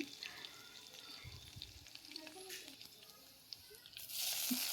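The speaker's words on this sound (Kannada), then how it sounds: "ಅದು ಎಣ್ಣೆ ಕಾದ್ಮೇಲೆ ಬೆಳ್ಳುಳ್ಳಿ ಹಾಕ್ಬೇಕ್ರಿ. ಹಿಂಗೆ ಚಟ್ಪಟ್ ಅನ್ಬೇಕಾದ ಸೌಂಡ್." Garlic dropped into hot oil sizzles and crackles softly under a speaking voice, then swells into a louder, hissing sizzle near the end.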